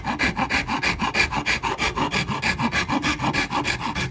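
The coarse side of a rasp files purpleheart wood for a cigar box guitar, about twenty rapid, even back-and-forth strokes, loud and close, with no talking.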